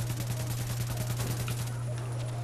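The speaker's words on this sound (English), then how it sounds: "We're just gonna open fire." Rapid gunfire from The Division video game plays at low level, a quick run of shots over a steady electronic hum, with no talking.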